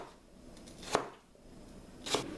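A kitchen knife chops watermelon rind into French-fry-sized sticks, giving two distinct crisp cutting thuds about a second apart against a quiet kitchen background.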